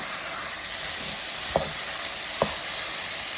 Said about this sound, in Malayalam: ഒരു ലേശം ഇഞ്ചി വെളുത്തുള്ളി പേസ്റ്റ് നമ്മൾ വീട്ടിൽ തന്നെ ഉണ്ടാക്കിയിട്ട് ലേശം കൂടി ആവാം